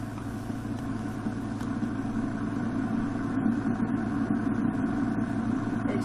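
A car engine in the video game Test Drive Unlimited idles with a steady low rumble, holding an even level throughout with no voices over it.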